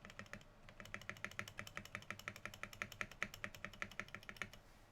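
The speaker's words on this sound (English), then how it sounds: "The space bar feels rattly, yeah, for sure." Steady, rapid clicking of keys on a Xeno 75% mechanical keyboard with Alpaca switches, a rattly space bar among them, in an even rhythm, close and quiet, with no talking.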